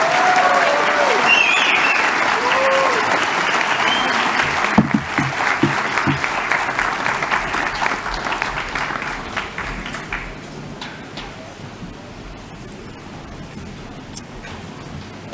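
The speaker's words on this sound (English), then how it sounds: "Can we all have a big round of applause there?" A steady, dense round of applause from a large audience at the Formula Student 2023 business plan presentation finals, loud and sustained at first, then gradually tapering off toward the end.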